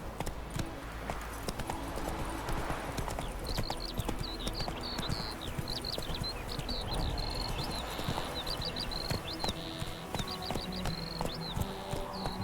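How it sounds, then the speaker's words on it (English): Horse hooves clip-clopping at a quick gait in the video game The Witcher 3: Wild Hunt, a steady clatter of hoofbeats with faint birdsong and game ambience around it. "Not so fast, Roach"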